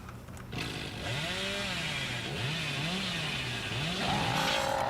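Chainsaw in the Dead by Daylight video game, a loud continuous motor drone whose pitch swings up and down as it revs repeatedly, close and alone.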